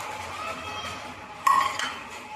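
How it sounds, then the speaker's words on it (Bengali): Cardamom, cinnamon pieces and dried chillies dry-roast in an empty pan for a Bengali fish kalia spice mix, giving a faint steady rustle with a brief burst of utensil clinks and scraping midway. "ছোট এলাচ তিন টুকরো দারুচিনি চারটে শুকনো লঙ্কা শুকনো খোলায় আমি এটাকে ভেজে নেব"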